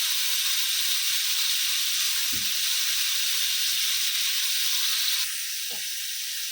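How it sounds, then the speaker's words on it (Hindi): Ravas fish frying in a pan gives a continuous bright sizzle and hiss, close and fairly quiet, with a couple of brief soft knocks and a slight drop in the sizzle near the end. "फ्राई करने से मच्छी का सालन टेस्टी बन जाता है।"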